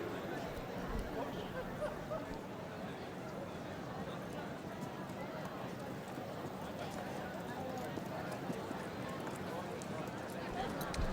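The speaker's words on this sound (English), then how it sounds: "Horses now coming in to the parade ring" Racehorses clip-clop on their way into the parade ring at an Abu Dhabi race meeting, hooves faint and irregular beneath a continuous crowd murmur and an announcer's voice.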